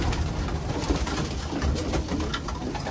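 Racing pigeons coo inside a breeding loft, a dense, continuous murmur of low soft calls from many birds close by, with no talking.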